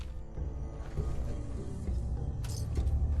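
Lockpicking a locked door in the Fallout 4 video game, with soft metallic creaks, clicks and mechanism scrapes over a low rumbling game soundscape, ending in a brief bright scraping rattle.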